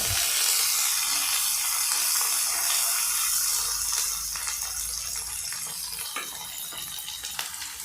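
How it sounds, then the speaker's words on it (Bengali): Chopped onion sizzles steadily in hot oil for a quick Bengali egg curry, a close, dense hiss of frying that runs the whole time with no one talking. "এবার আমরা একটা পেঁয়াজ কুচি দিয়ে দিচ্ছি। হালকা ভেজে নেব।"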